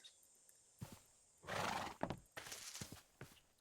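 A horse in a farm-building video game lets out a loud, drawn-out whinny in the middle, surrounded by snorts and short clip-clop noises.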